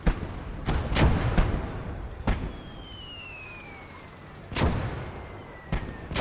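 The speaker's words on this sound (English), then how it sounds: "Normal mortar fire is not going to be a lot against the tank" Mortar fire in the World War II strategy game Gates of Hell: Ostfront during a Finland campaign battle with tanks: a string of sharp, sudden blasts, some clustered and some spread out, over a steady low din.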